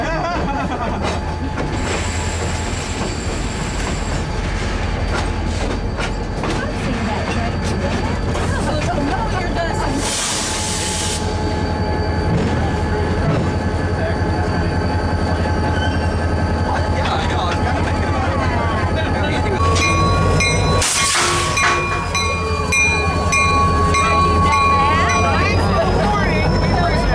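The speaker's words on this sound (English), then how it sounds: "Now with the Jeep clear, KCS 1, 2, and 3 would move up to attach to the business train." The KCS Holiday Express train moves slowly past at close range. Its low rumble runs throughout, with bursts of squealing wheels and clicking over the rails, and people talk in the background.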